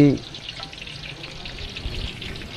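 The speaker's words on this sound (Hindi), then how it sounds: "और यह जिहड़ा देग पकाउण दा साउंड हुंदा है ना" Onions fry in hot ghee inside a large cooking pot (deg) for chicken pulao, giving a steady close sizzle with a brief clatter at the start. No one speaks.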